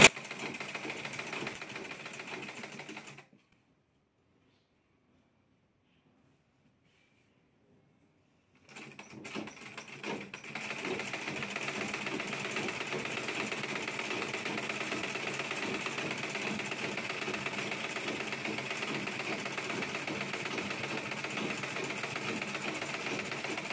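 A sewing machine runs steadily while stitching along the seam of a linen suit sleeve, with a brief start, a few seconds of silence, then a long continuous whirring run.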